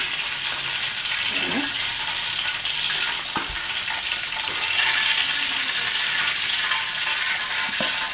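Chicken drumsticks (leg pieces) roasting in a pan give a loud, steady sizzle and crackle that runs without a break, with faint stirring scrapes now and then.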